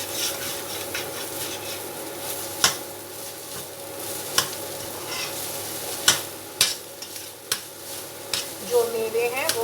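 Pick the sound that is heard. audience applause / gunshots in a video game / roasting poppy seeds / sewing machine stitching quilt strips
roasting poppy seeds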